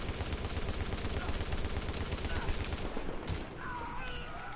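Rapid bursts of gunfire in the game The Division, a dense crackling volley of shots close and loud for about three seconds, then fading to a quieter stretch with faint game sounds.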